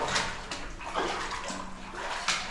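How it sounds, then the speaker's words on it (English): Shallow water trickles and sloshes as a small muddy stream runs through a flooded abandoned mine, a moderate, uneven flow with soft splashes. "Just a little creek running down."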